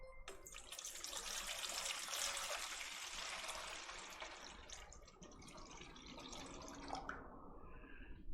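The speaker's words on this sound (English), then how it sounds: "I'm just going to start by pouring water in here and measuring it" Water pours steadily from a tap into a measuring container for a 5% salt brine, a close, continuous splashing rush that holds for several seconds before slowing and thinning toward the end.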